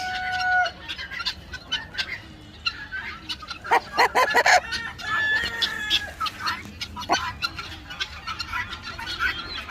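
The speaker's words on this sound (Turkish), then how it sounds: "Laken ve horozlarımız çıkmış." Chickens and roosters of several breeds, including Lakenvelder and Sussex, cluck and crow on a farm, with bursts of loud close clucking and squawks and drawn-out crowing calls over a quiet background.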